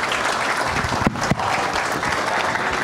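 An audience claps through a 65th-anniversary event celebration, dense and steady applause filling the room with a couple of sharper knocks partway through; no one speaks.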